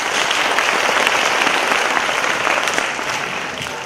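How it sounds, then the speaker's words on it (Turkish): Loud, sustained applause from a gathered audience at a commemorative event, a thick continuous roar of many hands clapping that eases slightly toward the end. "Tekrar Kasımcan ve Şükran Kırıncan kardeşimize tekrar rahmetimiz alkışlayın."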